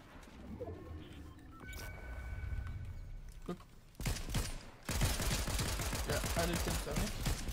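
Gunfire in the Fortnite video game, first quiet and scattered, then erupting into loud, dense bursts of rapid shots in the final seconds, with no one talking.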